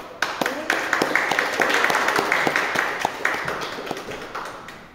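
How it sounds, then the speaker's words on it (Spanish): Audience at a seminar on death studies, held in a museum setting, breaks into applause to welcome a speaker. Sharp individual claps build into a brisk, fairly close round lasting several seconds before tapering off. "vamos a recibirla con un fuerte aplauso."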